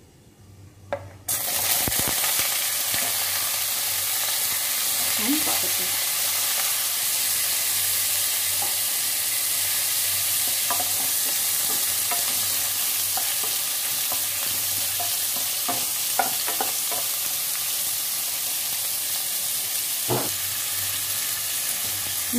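Cauliflower fries in a pan with chopped tomato, ginger and green chili. A dense, even sizzle runs throughout, broken by scattered scrapes and light clinks of stirring, with no talking.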